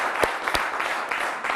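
At a live quiz show, a studio audience breaks into applause, a moderate, continuous patter of many hands with a few sharper individual claps standing out early on.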